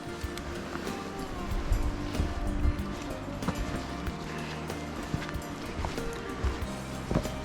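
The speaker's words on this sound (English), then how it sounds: "That water sound is getting louder." Rushing water along a forest hiking trail to Lower Dewey Lake near Skagway, Alaska, a steady broadband wash that stays fairly constant at moderate level, with faint scattered knocks and rustles over it.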